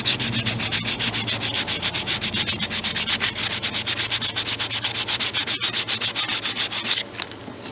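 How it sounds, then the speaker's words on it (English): Rhythmic hand sanding of wooden handles, with fast regular back-and-forth rasping strokes, close and loud, running steadily for about seven seconds before stopping. "Now I'm gonna see about sanding these and see how they look after they've been sanded a bit."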